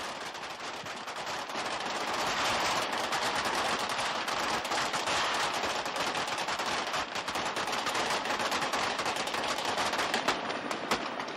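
Machine guns fire blanks on a film set for a large explosion scene, in long, continuous rattling bursts, dense and sharp, sustained without pause and sounding somewhat distant.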